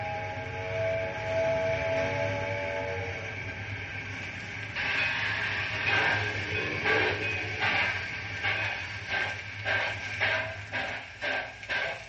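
Old-time radio sound effect of a train getting underway: a low steady rumble at first, then rhythmic chugging bursts that quicken and grow louder as it gathers speed, with no talk.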